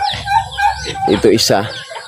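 Chickens cluck and squawk close by in a short, busy burst of calls, with a rooster-like cry mixed in.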